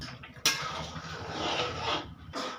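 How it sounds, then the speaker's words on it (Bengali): A metal lid comes off a pot of paneer pulao with a sharp clank, then a soft rustling scrape and a second clatter as it is set down. "এবারে আমি ঢাকনাটা খুলব"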